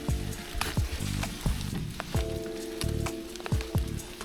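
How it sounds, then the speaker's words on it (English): Rain pattering during a gravel bike ride in south central Wisconsin, a crackling, sizzling patter with scattered sharp drops over a steady tonal hum from the ride. "Here comes the rain, which I was not prepared for."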